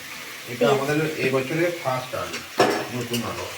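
Onions and new potatoes frying and stirring in a pan, a steady sizzle with clattering scrapes, heard under close, continuous conversation.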